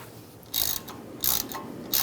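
A ratchet tightens the bolt and nut of an exhaust clamp during a CV axle job on a 2013-2016 Dodge Dart 2.4L, with three short bursts of close clicking separated by brief pauses.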